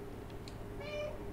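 A cat meows in the video game Stray: a short, mid-pitched call rising near the end, over a steady low hum of game ambience, with no talking.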